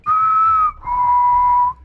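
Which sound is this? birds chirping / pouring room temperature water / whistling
whistling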